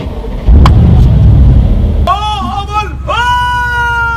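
A car engine revs loudly up close for about two seconds, then falls back as excited voices exclaim over it.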